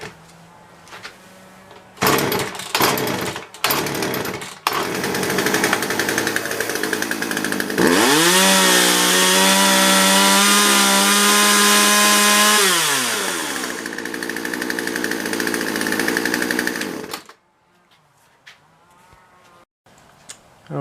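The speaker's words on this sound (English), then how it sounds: "I want to take this as an opportunity to show you how not to start a chainsaw." A chainsaw engine is pulled over several times with short bursts, then catches and roars loudly at high revs for several seconds before dropping off, with quieter handling noise at the end.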